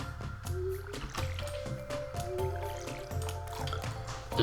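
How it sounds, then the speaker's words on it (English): Crops watered in the farming game Stardew Valley: a run of soft, bubbly drip and splash effects repeating at a steady pace over gentle background game music. "Turn my brain off and just water all these crops."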